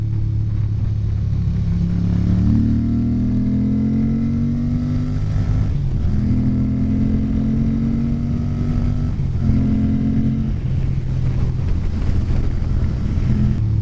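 A Ducati 900SS motorcycle engine pulls through several gears while riding, each rising drone broken by brief shifts, under steady wind rush with no talk.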